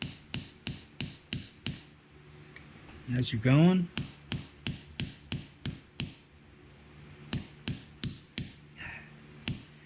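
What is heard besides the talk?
hammering a pillow ball bearing into its casing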